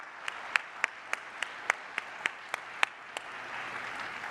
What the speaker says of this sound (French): On peut tous les applaudir et les remercier